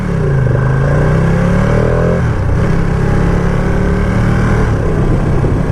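A 2020 Ducati Panigale V2 motorcycle engine revs loudly while being ridden through town, rising in pitch then shifting and pulling again, close and continuous with no talking.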